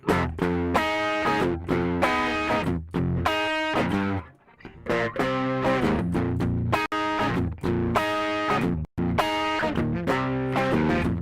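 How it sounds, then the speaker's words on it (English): Loud electric guitar through a distortion effect plays rhythmic, chugging chords in repeated bursts with a few brief gaps, gritty and saturated throughout. "I'm going to put some distortion on it."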